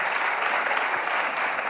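Warm applause from a Korean Christian testimony and talk concert audience, a steady dense wash of clapping that fills the whole stretch without pause.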